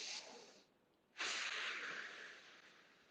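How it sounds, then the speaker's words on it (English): Deep breathing during a yoga-style flow, one breath drawn in through the nose followed by a longer, louder breath pushed out through the mouth, close and soft with no talking. "Big, deep breaths in through the nose, out through the mouth"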